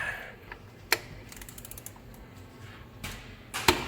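A ratchet cracks loose the 24 mm drain or fill plug on a Toyota 4Runner TRD Pro rear differential. Sharp, separate clicks and clacks come close by, with a few louder snaps over a quiet background.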